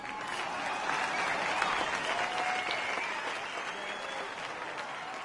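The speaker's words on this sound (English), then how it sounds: "let's hear a round of applause for Mila." A crowd applauds steadily at an NBA 2K23 retirement speech, a dense, sustained wash of clapping that holds at an even level throughout.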